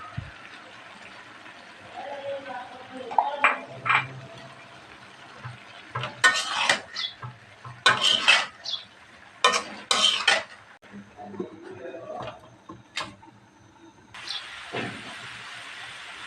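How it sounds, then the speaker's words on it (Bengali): Cauliflower and tomato stirred into a vegetable fry in a pan, with bursts of scraping and clattering utensil strokes against the pan over a soft sizzle, loud in clusters with pauses between. "ভাজিটাতে এখন আমি দিয়ে দিব ফুলকপি দিয়ে দিব টমেটো"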